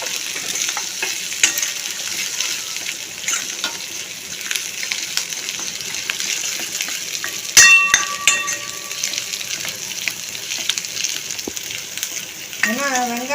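Onions frying in a pan for a horse gram thogayal, a steady close sizzle with intermittent stirring scrapes and a few sharp clinks of a utensil against the pan, no voices.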